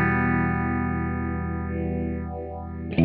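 Electro-Harmonix Stereo Polyphase analog phase shifter with its start and stop dials both set at 12 o'clock, giving a steady sustained tone with a narrow, slowly sweeping phase effect, loud and alone until a brief change at the end.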